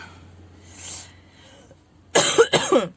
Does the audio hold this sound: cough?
yes